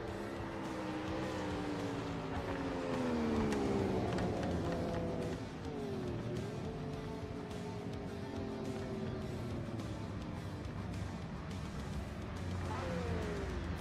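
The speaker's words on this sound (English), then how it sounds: "It's crazy the difference between the sound of the RX-7 in this and the sound of the 787B." A four-rotor and a two-rotor Group C race car, a 787B and an RX-7 in the Project Motor Racing video game, rev with a smooth, buzzy rotary tone that rises and falls through gear changes, steady at moderate volume.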